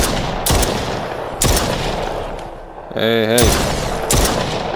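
Several loud gunshots ring out in the PSVR game The Brookhaven Experiment, four or five sharp blasts spread over a few seconds, with a brief spoken word in between.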